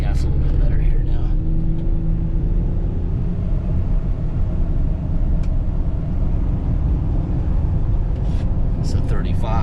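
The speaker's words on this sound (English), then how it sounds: "I can get on the gas a little bit better here now." A 2017 Ford Expedition EL Limited accelerating on the road, with loud, continuous low engine rumble and road noise. The level stays steady throughout, and there is no talk.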